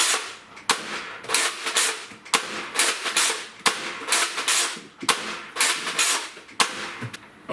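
A Nerf Rival Atlas spring-powered blaster fires repeatedly in a test, each shot a sharp snappy crack in quick irregular succession, loud and close.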